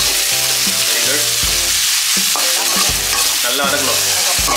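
Masala sautéing loudly in a pan, with a steady sizzle and repeated scraping strokes of a stirring spoon; no talking.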